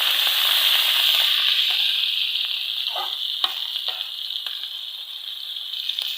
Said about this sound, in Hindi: अब हम इसमें डालेंगे लाल मिर्ची जो कुटी हुई हमने ली थी, और इसी के साथ सब्ज़ मिर्ची और सब्ज़ धनिया।